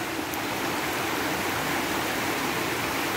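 The Rio Bravo flowing as a river, a steady broadband rush of moving water that holds evenly from start to finish with no voices over it.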